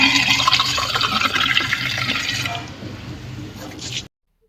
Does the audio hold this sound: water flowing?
yes